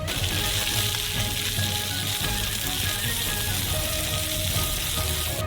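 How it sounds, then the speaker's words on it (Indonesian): Two kinds of onion sizzling and frying in sesame oil in a wok with pork while being stirred, a steady dense crackle throughout, close and without speech. "Lalu, tambahkan 2 jenis bawang bombay dan aduk."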